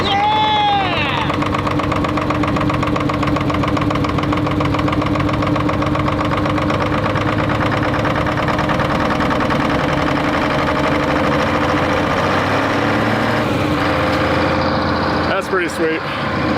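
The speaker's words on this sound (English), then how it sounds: "We got both engines working now." An old diesel engine on a huge excavator found at an abandoned mine runs loud and steady after starting, a rough, even chug that holds throughout before a brief clatter near the end.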